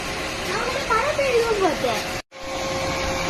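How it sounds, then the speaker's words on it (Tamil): An active battery cooling fan running hard while an electric vehicle charges near its radiator, a loud, steady whooshing hiss, with someone talking over it for part of the time before a brief cut. "ஃபேன் இங்க நல்லா சுத்திட்டு இருக்கு."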